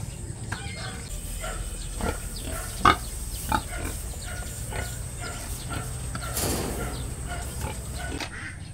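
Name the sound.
pregnant sow pig grunting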